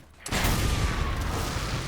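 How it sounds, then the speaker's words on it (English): Explosions during a fight in the video game Mad Max: a sudden loud blast that swells into a sustained, dense rumbling roar lasting a couple of seconds, close and forceful. "It had a lot more explosions in it."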